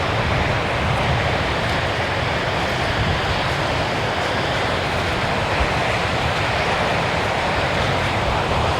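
Rough surf rolls in at Alabama Point beach under double red flag conditions, a steady broad roar of waves and wind with no distinct breaks.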